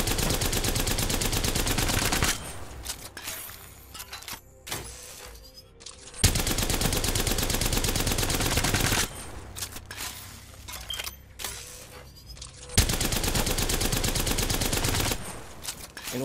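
Havoc rifle gunfire in Apex Legends, with three long sustained bursts of loud, close automatic fire separated by short quieter gaps.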